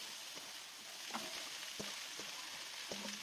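Food sizzles in a heated pan while cooking a Maranao dish, piyaparan, a soft steady frying hiss with a few faint clinks and stirring taps, no talking.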